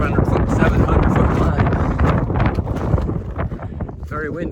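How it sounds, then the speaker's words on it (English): Strong wind on a mountain at about 7,000 feet buffets the microphone in a constant low roar, with a voice speaking close by over the gusts. "Very windy up here."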